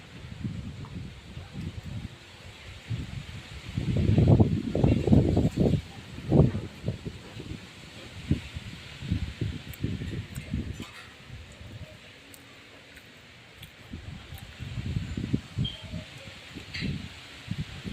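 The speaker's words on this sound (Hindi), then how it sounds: "बहुत तेज़ ठंडी हवा चल रही थी, बहुत ही ज़्यादा तेज़ चल रही थी। देखो कैसे चल रही है, पेड़ हिल रहा है।" Strong, cold wind in rainy, stormy weather shakes a tree, giving gusty low rumbles and rustling leaves that swell loudly, ease off, then pick up again, close to the microphone.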